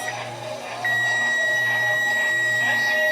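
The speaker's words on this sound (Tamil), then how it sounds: "பீப் சவுண்ட் வருதா?" A steady high electronic beep tone sounds continuously from about a second in, over a low hum of kitchen background noise.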